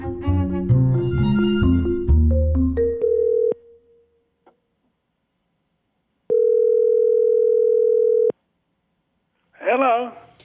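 A telephone call goes through: a rapid run of dialing tones, then a single loud, steady electronic ring tone lasting about two seconds after a short silence, and finally a voice briefly begins speaking.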